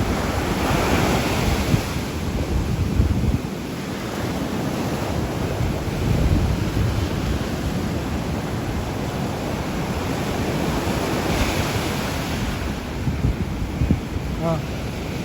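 Sea waves wash onto the beach at Bolinao, Pangasinan, with a steady roar of surf and heavy wind buffeting the microphone throughout.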